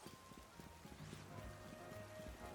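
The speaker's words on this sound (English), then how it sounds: "why am I hearing the rain so clearly? It's happening in game now." Steady in-game rain from Pokemon Legends Z-A, a soft continuous patter with scattered droplet ticks over low background game music, fairly quiet and uninterrupted.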